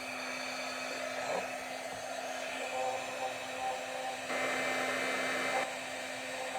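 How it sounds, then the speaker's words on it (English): A heat embossing tool melting embossing powder runs with a steady blower whir from start to finish, fairly quiet with slight swells in intensity and no talking. "Turn on my heat embossing machine."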